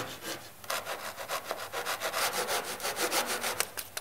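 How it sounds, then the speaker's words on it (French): A fine hand saw rasps through laminate flooring in quick, even back-and-forth strokes, close and steady. "Tu le scies avec une scie fine."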